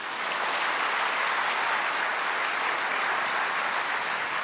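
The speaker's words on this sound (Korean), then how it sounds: "박수로 환영하겠습니다." Steady audience applause at a church peace and reunification prayer meeting, welcoming a guest speaker; dense, even clapping fills the whole stretch without any talk.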